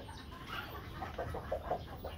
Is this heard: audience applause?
no